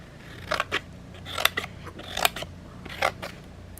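Small European-style cross-stitch scissors snipping thread, a handful of crisp close-up snips in quick pairs and singles against a quiet room.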